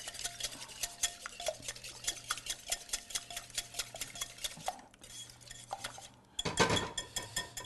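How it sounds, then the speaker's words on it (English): A whisk beats egg yolk in a bowl for homemade eggnog with a quick, steady rhythm of light metallic clicks and scrapes against the bowl, close and fairly quiet, pausing briefly before a louder burst of whisking. "So we're going to whisk this with a whisk."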